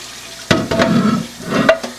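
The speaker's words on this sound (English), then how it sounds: "Give it a good scrubbing with a sponge. Get some of that powdered rust and stuff off of it." A sponge scrubs powdery rust and old residue from a reclaimed cast iron pan with water, making a few short, close, rough swishing bursts separated by brief pauses.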